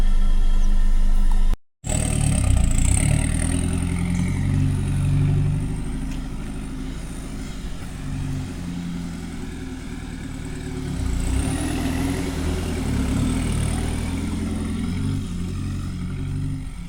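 A car revving hard as it drives up a sandy beach bank at Kennedys Beach near Esperance, its engine roaring loud and close in a steady strained drone, rising again partway through.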